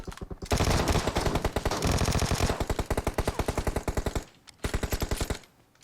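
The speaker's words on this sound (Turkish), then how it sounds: "Vector'la aşırı vurdum hepsine." Vector submachine gun firing in the PUBG Mobile video game, long rapid full-auto bursts of loud, close shots with a short pause before a final burst, then fading off.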